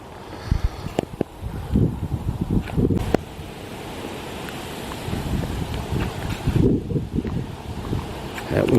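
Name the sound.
wind picking up on a pine forest hike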